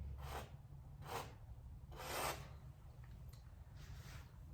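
Soft, faint rubbing as white paint is worked into an abstract seascape painting, heard as four or five slow, breathy strokes over steady low background noise.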